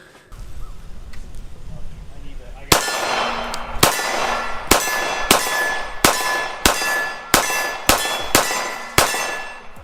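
PSA Dagger 9mm pistol fired at steel targets: nine sharp shots at a steady pace, each followed by a bright metallic ring from the struck steel, loud and close after a quiet outdoor start.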